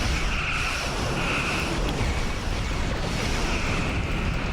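Enemy warbird exploding in the space game Star Trek Online, a sustained loud roaring blast with dense rumble that holds steady for several seconds without a break.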